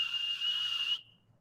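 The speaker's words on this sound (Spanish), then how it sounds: "Le soplamos a un silbato y decimos." A whistle is blown in one steady shrill tone that holds for about a second, then cuts off sharply and leaves faint room noise.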